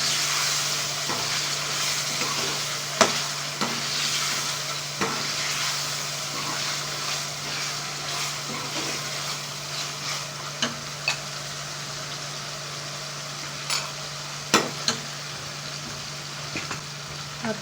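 Chicken frying with garam masala and cumin gives a soft, continuous sizzle, and a spoon stirs it with repeated light scrapes and taps.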